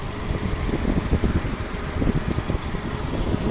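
A 2009 Skoda Octavia A5 1.6 MPI petrol engine idles nearby with a steady low rumble and faint mechanical whir, running evenly throughout with no talking.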